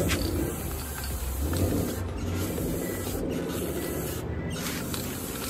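Aerosol spray paint hissing onto an outdoor bench in a front yard, steady spraying with a few short breaks as the nozzle is released, set against outdoor ambience with faint birds and no speech.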